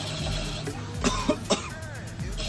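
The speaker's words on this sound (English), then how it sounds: "There's 3 coughs." Three sharp coughs from one person, evenly spaced across a couple of seconds and close to the microphone, rising above a steady low background hum.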